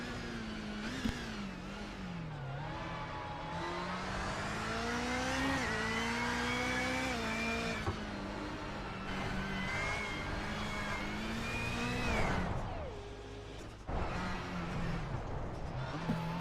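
Onboard with rallycross car 5.05 on its final qualifying lap at Daytona: a loud, continuous engine note rising and falling through revs and gear changes, with a brief lift near the end before it pulls hard again.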